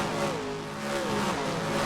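Race car engines in NASCAR Racing 2003 at Richmond, roaring steadily as cars come off a corner, a continuous loud drone with shifting engine tones throughout.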